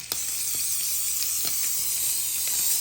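Steady hiss of cooking spray from an aerosol can onto a pie plate, close and continuous, with a few faint taps in the background.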